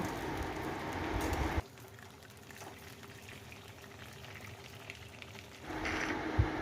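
Pointed gourd (potol) fries in hot oil in a pan with a steady, rain-like sizzle. It crackles louder at the start and end and softens in the middle. No voices.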